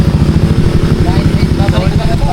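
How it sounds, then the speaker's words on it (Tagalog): A motorcycle engine runs steadily close by, a loud continuous rumbling throb with no pauses, heard on its own. "Ere, motor na Kuya Jeff guys eh"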